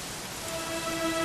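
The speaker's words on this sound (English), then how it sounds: "it was raining like this" Steady rain falls in the Dragon Quest XI video game, a dense, even hiss of drops on surfaces that holds close and constant throughout, with no other sounds.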